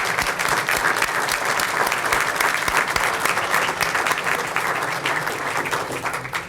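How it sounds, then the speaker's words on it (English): A seated audience at a heritage preservation awards ceremony gives sustained, dense applause for the award recipients, many hands clapping loudly and evenly before it begins to taper off at the end. "one last applause for all of the award recipients"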